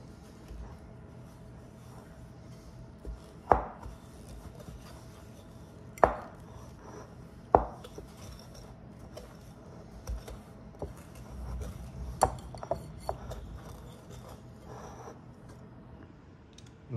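Cheesecake batter with vanilla extract being hand-mixed in a bowl: soft stirring under a few sharp, irregular clinks and taps, close by and fairly quiet, with no talking.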